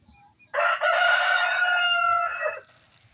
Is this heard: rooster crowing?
yes